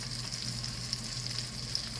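Flour cooking in a hot pan for a loaded breakfast baked potato, giving a steady, close sizzle and frying hiss with faint stirring, no voices.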